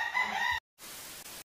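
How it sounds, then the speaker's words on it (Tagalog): A rooster crows with strong harmonic calls for about half a second near a flock of chickens bought for a birthday feast, followed by a brief gap and then a steady, noisy rustle. "ito yung mga manok na binili ko."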